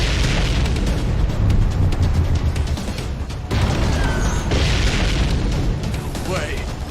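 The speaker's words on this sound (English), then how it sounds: "We seem to be witnessing a firefight on the perimeter of the White House." Heavy explosions and gunfire rumble through a firefight on the White House perimeter in a Guilty Gear Strive story cutscene: dense, loud, continuous booms and bursts with a brief dip partway through.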